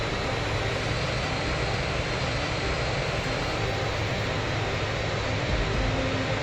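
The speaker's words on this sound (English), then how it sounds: "Within minutes, the plane entered the runway." A Silk Air passenger jet moves onto the runway at Jakarta, its engines giving a loud, steady broadband roar that stays constant with no pauses.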